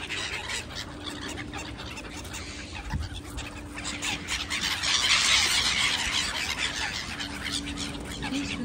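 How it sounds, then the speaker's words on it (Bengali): Domestic birds being fed at about eight in the morning raise a continuous, busy chorus of squealing and clucking calls. The sound is moderately loud and swells in the middle, with no talk over it. "কি সুন্দর পাখিগুলো খাইতেছে সকাল 8টা বাজে মর্নিং টাইম পাখিগুলো খুবই হাংরি"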